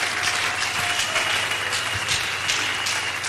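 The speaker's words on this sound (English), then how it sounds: "Clap your hand for Jesus if you are killing." A church congregation claps in loud, dense applause that runs steadily throughout, close and continuous.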